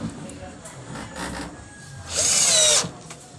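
A power drill briefly drives a screw into a cabinet door hinge, giving a short, loud whirring burst after some quieter handling and rubbing.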